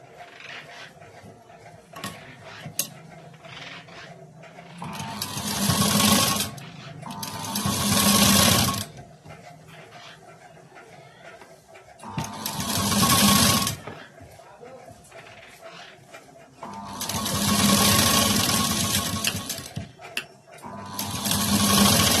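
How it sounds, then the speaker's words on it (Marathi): A sewing machine stitches a sleeve in four loud bursts of rapid mechanical whirring, each lasting two to four seconds. Quieter gaps in between carry soft handling of the fabric and some faint talk. "आता इकडून शिवायचे."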